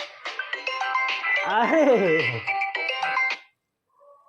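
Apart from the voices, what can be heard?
phone ringtone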